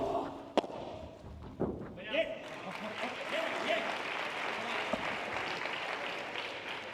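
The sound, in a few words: crowd noise at padel match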